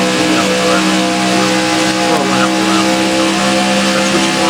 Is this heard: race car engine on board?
yes